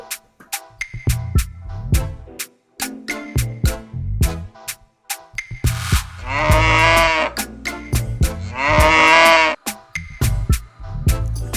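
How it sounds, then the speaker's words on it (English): A cow gives two long, drawn-out lowing calls, loud and close, set among a steady patter of sharp clicks and short percussive taps. "cow"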